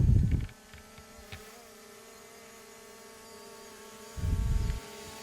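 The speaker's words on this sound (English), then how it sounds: "having fun flying his drone" A small drone flies somewhere in rural Maasai country, making a faint, steady whine with a thin harmonic hum. Short low gusts of rumble break in at the start and near the end.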